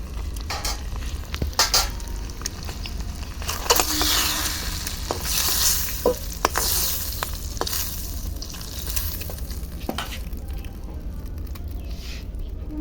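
Eggs frying in a kadai for an egg-and-spinach dish, a steady close sizzle with occasional stirring scrapes and spatula clicks, no talking.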